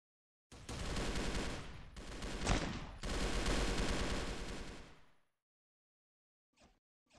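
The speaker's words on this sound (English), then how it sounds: "when I shooted that person, that milk" Automatic gunfire in the online first-person shooter Milk Choco, long sustained bursts of rapid fire with brief gaps for about four and a half seconds, then silence and two short faint clicks near the end.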